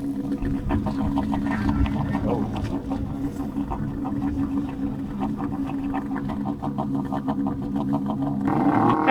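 A snowmobile engine idles after a spark plug change, running as a loud, steady, close throbbing drone with a rhythmic pulse that continues throughout, with a voice briefly heard over it.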